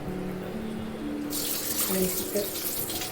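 Rice is washed under running water in a sink, a steady close hiss of the faucet with splashing and swishing growing brighter partway through.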